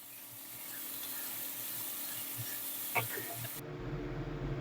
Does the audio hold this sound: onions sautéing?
yes